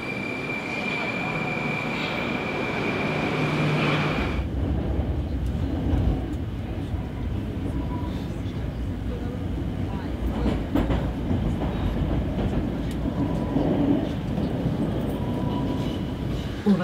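A Russian metro train riding through the tunnel, a loud continuous rumbling roar with rattling clatter after a quieter start, heard from inside the carriage with faint voices underneath.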